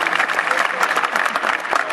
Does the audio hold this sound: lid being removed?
no